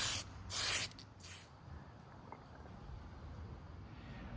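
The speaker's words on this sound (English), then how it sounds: "Start by spraying the inside, under the hood and everything like that." Aerosol spray paint hissing onto the inside of an RC dually truck body, a few short loud bursts in the first second and a half, then faint background hiss and noise.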